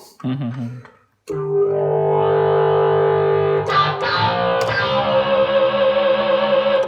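A sharp hit on a bucket, fed through a distortion pedal, sets off a sustained, heavily distorted metallic tone that rings on, with a second whack midway adding another harsh crash.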